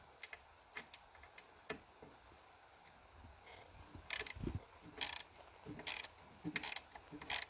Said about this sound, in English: Definitely does help to have the ratcheting screwdriver.